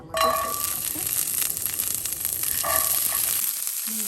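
Green beans sizzle steadily in hot olive oil in a pan, a continuous close frying hiss with a few soft clinks of a utensil.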